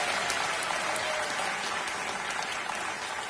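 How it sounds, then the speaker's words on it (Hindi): A studio audience at the KBC quiz show applauds steadily and loudly throughout, a dense continuous wash of many hands clapping with no speech over it. "एक बार फिर तालियों के साथ हम आपका स्वागत करते हैं"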